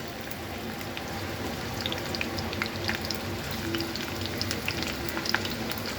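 Chopped onions fry in oil in a pan with a constant close hiss and scattered pops and crackles that hold steady throughout, with no voices.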